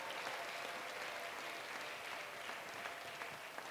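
A church congregation claps steadily during a sermon, a dense, even wash of many hands applauding at moderate distance for several seconds with no voices standing out.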